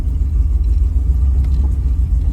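An old Suburban engine, left abandoned for 13 years, runs quietly with a steady low idle rumble that continues throughout.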